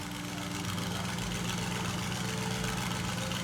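A rebuilt Audi RS6 engine idles steadily with a constant low throbbing hum, close and even throughout with no revving.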